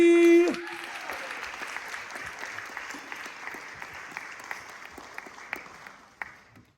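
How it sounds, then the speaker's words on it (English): A talent show audience applauds steadily for a contestant after a brief tone at the start, with the clapping fading gradually over several seconds. "please the massive round of applause up to the front"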